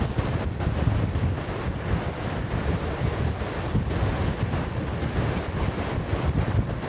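Strong wind buffets the microphone while a stormy sea's surf roars steadily beneath at a beach in Anapa, a continuous rough outdoor wash with no voices.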